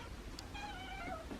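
Feral cats meow at morning feeding time as homemade raw food is brought out, with a fairly faint, drawn-out mewing cry heard over steady outdoor background noise.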